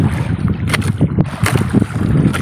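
Irregular splashes and knocks of paddles working a fishing boat through water against the wind, close by, with wind buffeting the microphone throughout.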